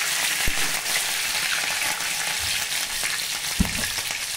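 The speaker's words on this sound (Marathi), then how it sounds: "आणि आता आपण फोडणीची तयार करणार आहोत।" Cumin, mustard seeds and finely chopped green chilli crackle in hot oil for a dhokla tempering, a continuous close sizzle broken by a few sharp pops.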